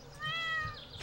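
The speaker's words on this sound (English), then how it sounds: "Aw, look at my cat." A cat meows once inside the farming game Stardew Valley, a single drawn-out, clear in-game mew lasting under a second over faint background game audio.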